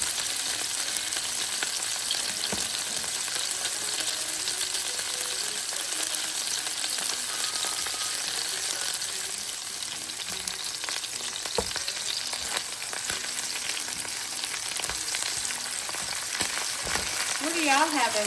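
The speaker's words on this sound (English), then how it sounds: "All we need is a good sear on both sides." Lamb chops searing in a hot pan, a loud dense sizzle that holds steady throughout with occasional pops and crackles, close up and without talking.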